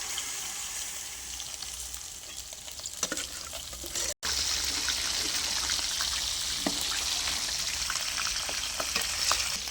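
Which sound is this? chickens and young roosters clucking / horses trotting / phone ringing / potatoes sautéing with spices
potatoes sautéing with spices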